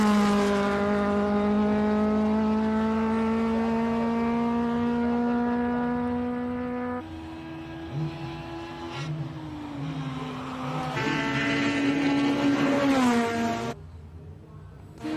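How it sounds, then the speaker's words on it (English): A Cosworth-powered March 79B race car climbs a hill-climb course, its engine a loud, buzzing wail that holds high, drops on gear changes and climbs again as it pulls away. "Charles Arton heading up in his March 79B Cosworth powered March"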